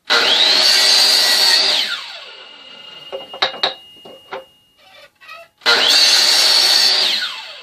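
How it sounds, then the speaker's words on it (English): A power saw cuts the ends off pieces being readied for a steamer in two loud bursts, one at the start and one near the end, with quieter clatter and taps between them. "We want to chop the ends off."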